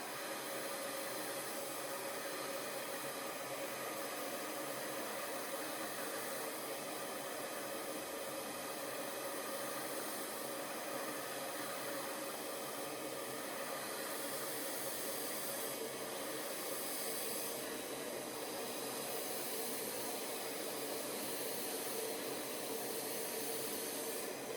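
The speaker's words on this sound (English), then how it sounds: "then I will go pointing down on the brush with my hairdryer" A hairdryer blow-drying hair over a round brush, nozzle pointed down, gives a steady broadband rushing hiss that runs unbroken and fairly close for the whole stretch, with no voices over it.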